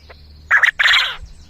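Young male chicken in a backyard vegetable-garden coop giving two short, close clucking calls in quick succession, the second longer, with no talking.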